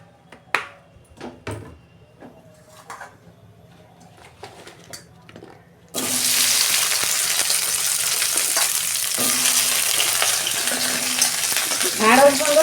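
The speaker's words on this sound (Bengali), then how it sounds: "প্রথমে আমি ঢ্যাঁড়সটাকে 2 মিনিট ভেজে নেব।" Okra frying in a hot kadai, a loud steady sizzle that starts abruptly partway through and runs continuously, preceded by quieter kitchen clatter and handling noises, with a brief stirring scrape near the end.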